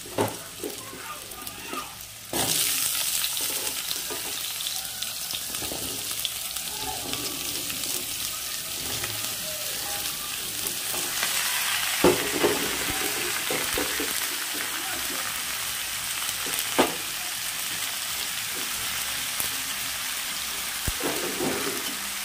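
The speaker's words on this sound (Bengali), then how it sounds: "বন্ধুরা তেলটা গরম হয়ে গেছে, এবার আস্তে আস্তে করে একে একে আমি সব সবজি ছেড়ে দেবো বন্ধুরা" Mixed vegetables dropped into hot oil in a kadai burst into a loud, dense sizzle that jumps up after a couple of seconds and holds steady, with occasional clinks and stirring scrapes and no talk.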